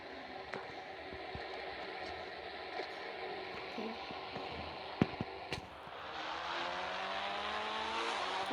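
A motorbike engine in the Indian Bike Driving 3D video game revs and climbs in pitch, with a sharp skid or impact midway before the whine rises again, steady and fairly close.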